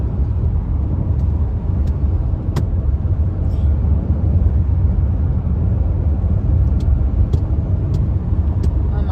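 Steady road noise from a car driving through rural Oklahoma, a continuous low rumble of engine and tyres heard from inside the vehicle with a few faint clicks and no talking.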